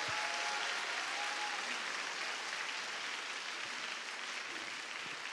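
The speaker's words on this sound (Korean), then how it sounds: "큰 박수 부탁드립니다." Sustained applause fills a hall at a school graduation service as graduates enter, a steady, dense wash of clapping that holds at an even level throughout.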